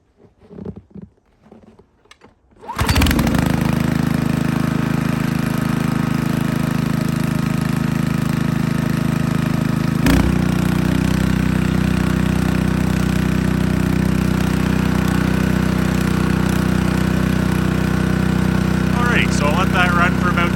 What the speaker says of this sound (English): I'm going to start the engine, let the blower run for about 5-10 minutes or so, let that oil get nice and warmed up